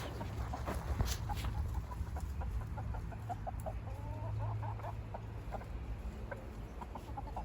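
Indian-cross chickens cluck and chatter steadily in a farmyard, a dense run of short, near calls over constant low background noise with no talking.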